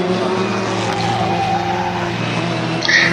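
A historic Formula Ford race car corners on the limit at Brands Hatch, its engine droning steadily and loudly over broadband crowd and track noise, with a brief high tyre squeal near the end.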